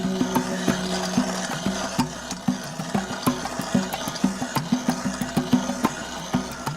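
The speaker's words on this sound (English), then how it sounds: "used a special drill to make a hole in the frozen lake" An ice drill grinds steadily with rhythmic scraping and knocking pulses as it bores through a frozen lake in Finland, close by, with no voices.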